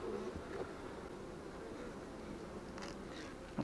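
Honey bees hum and buzz steadily around a hive in an apiary during the linden honey flow, a soft, continuous drone with a few individual insects flying close past.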